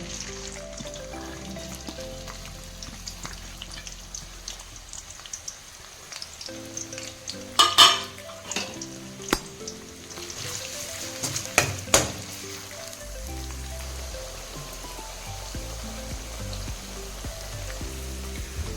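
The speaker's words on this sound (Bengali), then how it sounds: "তার জন্য কড়া গরম হয়ে গেছে, রিফাইন্ড অয়েল দিয়েছি, তেলটাও গরম হয়ে গেছে। এবার পেঁয়াজটা দিয়ে দেব।" Sliced onions fry in hot refined oil in a wok with a steady sizzle, broken by a few louder clattering stirs near the middle; no voices.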